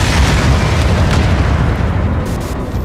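Deep, rolling explosion effects from a game trailer rumble loudly and continuously, a dense low boom that slowly eases off near the end, with no voices over it.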